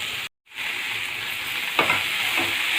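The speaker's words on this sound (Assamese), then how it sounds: "এতিয়া আমি ইয়াত ভেন্দিখিনি দি দিম।" Okra dropped into a pan of frying onions, a steady bright sizzle with a brief cut near the start and stirring scrapes as the vegetables hit the hot oil, close and continuous with no talk.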